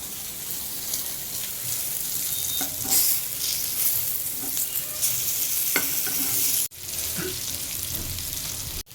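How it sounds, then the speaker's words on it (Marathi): Fish frying in a hot pan at home, a steady broadband sizzle with occasional stirring scrapes and clinks, fairly close and continuous, breaking off abruptly near the end before resuming briefly. "आणि इकडं होईल फ्राय, फिश फ्राय."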